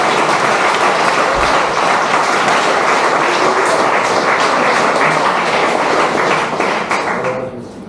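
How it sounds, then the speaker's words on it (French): A church congregation bursts into loud, sustained applause, dense rapid clapping filling the room for several seconds before tapering off at the end. "Applaudissons le Seigneur pour les bien-aimés qui sont à la technique."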